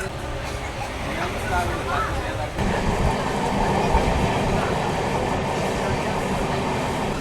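An 18045 Shalimar to Vizag East Coast express train runs on rails out of Santragachi, a steady loud rumble and clatter of coaches with a brief lull before the noise swells and continues, voices faintly mixed in.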